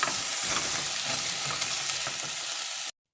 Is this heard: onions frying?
yes